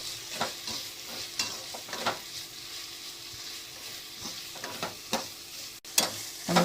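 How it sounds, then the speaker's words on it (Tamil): Vegetables stir-fried for homemade veg noodles, a quiet steady sizzle with repeated light scraping and tapping stirs of a spatula. "ஸோ இதெல்லாம் போட்டு நம்ம நல்லா வதக்கிக்கலாம்"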